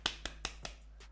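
Hands clap repeatedly through mousse-coated curly hair being scrunched to define the curls, four soft, evenly spaced pats at close range, fairly quiet with no talking.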